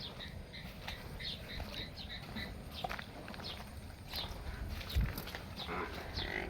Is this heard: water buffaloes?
yes